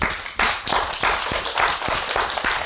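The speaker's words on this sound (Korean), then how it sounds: "우리 주방 선생님들을 위해서 박수 한번 쳐주세요" Audience applause for the kitchen staff at a Korean healing center talk, a dense burst of hand clapping that starts sharply and holds steady for about two seconds.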